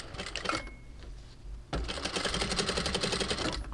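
Domestic sewing machine backstitching stretch lace with bias binding, a short buzzing run, a pause, then a longer steady close-up stitching whirr with rapid needle rhythm.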